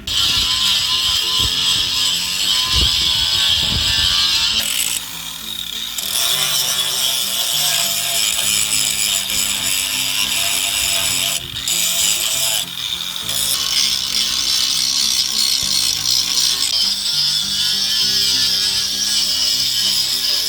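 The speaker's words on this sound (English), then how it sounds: "we take this wire brush, the angle one, and go over it again" An angle grinder fitted with a wire brush scours rust off the fuel tank frame of a 1994 Ford F-150. A loud, continuous, harsh whirring grind stays close and steady, easing off for a couple of brief moments.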